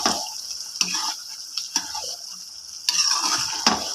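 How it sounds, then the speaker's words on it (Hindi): Beef karahi masala with meat being stir-fried in oil, a steady sizzle broken by the repeated scrape and clack of a spoon stirring against the pan, close and fairly loud, with no one speaking. "अब जो है वो हम इसको अच्छे से भून लेंगे ताकि जो है वो हमारा मसाला यकजान हो जाए"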